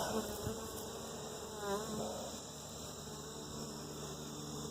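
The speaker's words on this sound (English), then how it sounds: "Got one bee over there flying around the camera." A honeybee flies around the camera during a young hive inspection, a thin, steady buzz with small swells as it moves near and away, faint over the outdoor background, with no talk.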